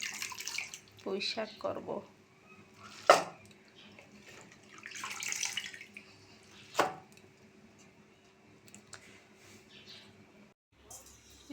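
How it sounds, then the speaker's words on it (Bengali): Malabar spinach leaves are rinsed with water in a home kitchen, with irregular splashing and dripping bursts under a woman's speech. "এই কেবল একটু জল দিয়ে ধুয়ে উঠে দিই"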